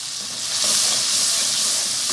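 Okra frying in a pan with spices including crushed chili, crushed coriander and garam masala, giving a steady, bright sizzle that swells slightly midway and holds even and close throughout.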